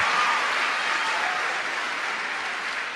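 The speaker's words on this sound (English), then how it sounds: "that means a lot to me that you guys applaud for that" An audience applauding a speaker at a talk, steady dense clapping from many hands that holds at an even level throughout and tapers slightly at the end.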